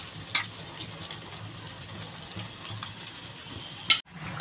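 A lid is set over a cooking pot of simmering curry, giving one sharp metallic clank near the end over a faint background sizzle.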